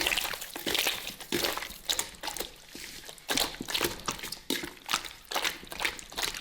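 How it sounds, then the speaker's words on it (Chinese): Pig stomach is rinsed in a basin with boiling water, producing repeated sloshing and splashing bursts at an irregular rhythm, close and fairly quiet, with no talking. "加入滚水清洗干净"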